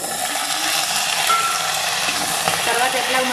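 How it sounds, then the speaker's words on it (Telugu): Green chillies fry in a pan, a loud steady sizzle throughout, close and unbroken, with faint stirring texture. "ఒక్కసారి అయితే పచ్చిమిర్చి అయితే వేయించుకోవాలి."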